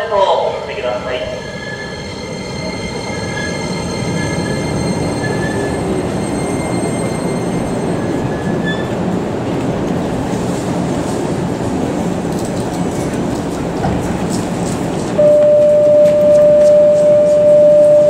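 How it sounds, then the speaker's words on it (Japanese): A Keikyu train pulls away from a station, a loud sustained rumble of wheels and motors with a rising electric whine near the end, while a platform announcer's voice carries over the noise. "電車動きます。 ドアを閉めます。"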